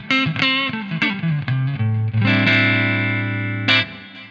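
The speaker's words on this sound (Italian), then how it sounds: "questo è il mio suono clean." Clean tone from a Gibson 335 electric guitar with Burstbucker pickups: a few single picked notes and short phrases, then a sustained ringing chord that fades slowly, played alone.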